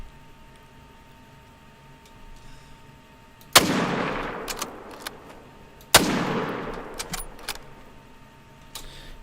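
Two sharp, loud gunshots from a hunting game, each followed by a long decaying reverberant tail, spaced a couple of seconds apart over a quiet background.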